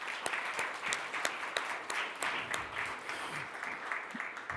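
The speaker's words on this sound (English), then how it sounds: "Let's give her a round of applause" Audience applause at a leadership summit as a publishing executive is invited up as a panelist, steady clapping from a crowd holding at moderate level throughout.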